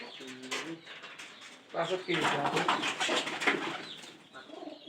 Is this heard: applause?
no